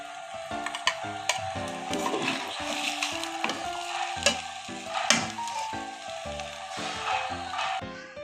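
Chinese-style pasta being stirred into spices in a pan, a spoon scraping and clacking in rhythmic strokes over a steady sizzle, close and fairly loud with no talking.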